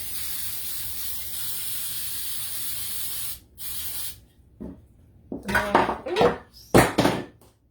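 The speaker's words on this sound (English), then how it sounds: "then we're gonna put the spray adhesive on it." A steady hiss of an aerosol spray adhesive can runs for a few seconds, stops, then a short second burst, followed by light clatter and handling noises.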